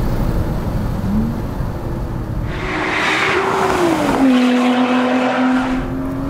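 A Lotus Elise Cup 250 engine drones and revs in sport mode on the Goodwood track, pitch rising and shifting as it accelerates, heard from inside the car over steady road noise.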